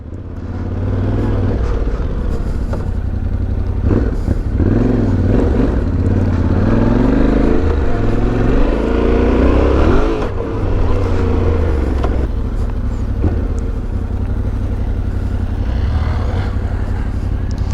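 Motorcycle ridden up a rocky mountain trail, engine droning loud and close with rising and falling revs, clattering over stones as it climbs.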